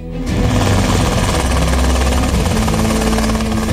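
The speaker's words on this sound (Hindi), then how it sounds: "भारत के पास आसमान में उड़ने वाला पहला स्वदेशी लड़ाकू हेलीकॉप्टर भी है। नाम है लाइट कॉम्बैट हेलीकॉप्टर।" An Indian Light Combat Helicopter, the first indigenous attack helicopter, flying close and loud, its rotor thumping and turbine whine starting abruptly and holding steady throughout with no talking.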